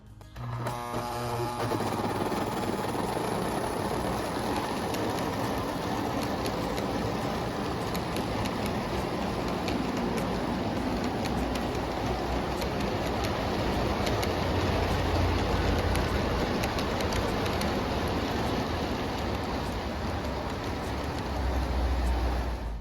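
A Little Joe model train locomotive running on a home layout, a continuous close whirring motor hum with faint rail clicks, steady and unbroken throughout.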